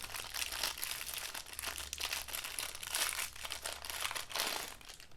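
Plastic packaging holding a pair of 6-inch stainless steel pocket rulers crinkles and rustles continuously as it is handled and opened, close and fairly quiet.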